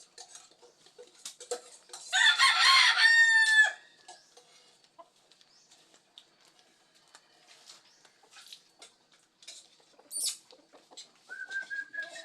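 Chickens cluck and squabble while eating beside puppies, with a loud burst of agitated clucking and squawks, then scattered pecking and short calls in a quiet yard.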